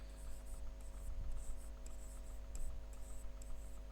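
Chalk or pen scratching on a board during a physics lecture, a faint steady run of short strokes over a low constant hum, with no talk.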